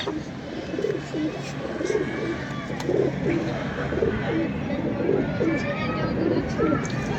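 A pigeon on a rooftop coos in a rhythmic series of soft, low calls, close by, over steady outdoor background noise.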